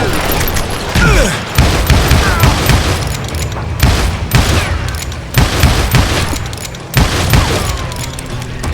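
Repeated gunfire from the Western shooter video game Call of Juarez Gunslinger, loud bursts and booming shots in quick clusters throughout, with game voices calling out between volleys.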